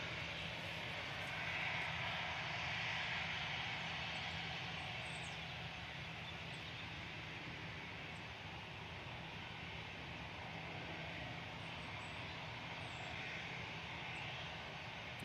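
An Emirates airliner lands at Manchester Airport, its engines giving a faint, distant steady roar with a low hum, swelling slightly early on and then holding even, with no voices.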